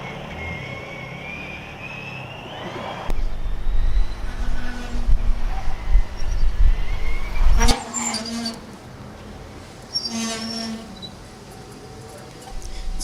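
A Formula Student autocross car at FSG 2021 roars past for several seconds, then its brakes squeal in high, shrill tonal bursts as it slows, with quieter track ambience before and after.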